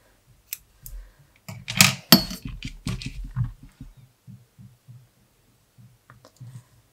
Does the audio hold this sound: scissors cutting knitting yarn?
yes